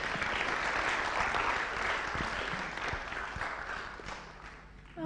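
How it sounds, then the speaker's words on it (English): Audience applause at a tech talk and web development graduation, a full room of steady clapping that holds for several seconds and then fades out at the end. "Guys, you can be clapping for Tahir."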